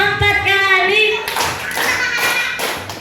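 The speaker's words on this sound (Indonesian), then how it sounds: "Tepuk 4 kali." Four hand claps ring out in a school classroom setting, sharp and close, following earlier rhythm games, with a bright tonal voice-like sound at the start.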